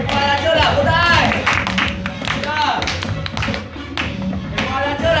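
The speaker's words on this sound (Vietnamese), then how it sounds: "Một tràng vỗ tay cho thầy Khoa nào." Young children in a classroom clap for their teacher Khoa, a lively burst of many small hands tapping rapidly and unevenly, mixed with children's voices and an adult talking over it.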